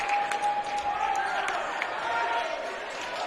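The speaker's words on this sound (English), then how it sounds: "Crowd applause as there's just under 5 seconds left" Crowd applause in a high school gym during a boys basketball game, a steady wash of clapping and cheering throughout with occasional ball bounces and sharper sounds.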